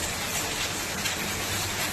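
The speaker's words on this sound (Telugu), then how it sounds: "చూసారా వర్షం ఎలా పడిపోతుందో." Heavy winter rain pours down in a dense, continuous wash of hiss, steady and enveloping with no pauses.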